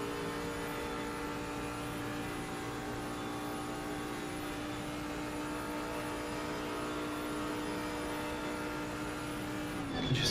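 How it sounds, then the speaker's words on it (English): A race car in a sim racing multiclass event at Paul Ricard holds high, steady revs down a straight, a sustained buzzing engine drone with layered harmonics and no gear change until a brief shift near the end. "You can just hear how Long is sitting on the top of those revs down that straight."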